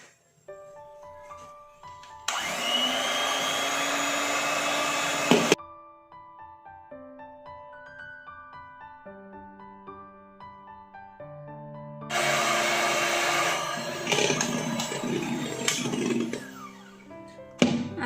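An electric mixer beats cake batter as powdered sugar is added a little at a time. It runs in two loud, whirring bursts separated by a quieter stretch with musical tones underneath.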